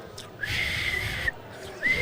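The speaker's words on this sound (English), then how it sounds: "I'm not blessed as a whistler, but I've taught myself to whistle." A person attempts to whistle, producing breathy, airy blows with a faint, thin tone that comes and goes in two short tries, close and fairly quiet.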